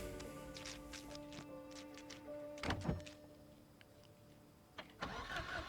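A hot-wired car in Project Zomboid fails to start: a short cranking burst with a thunk, then quiet, then another brief attempt near the end, heard faintly over a low steady hum.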